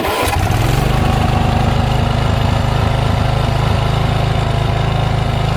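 A riding mower's engine starts and then runs at a loud, steady, close drone with no pauses and no talking.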